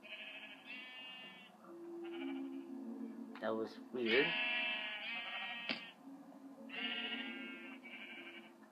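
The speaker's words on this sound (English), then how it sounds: "I'm going to kill the sheep." Repeated sheep bleats from a Minecraft sheep, loud and close, come in several bursts across the stretch, with someone talking over and between them.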